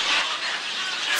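A flock of herons calls at a middle school in Cheongju, Korea, a dense, loud wash of overlapping harsh cries filling the short clip.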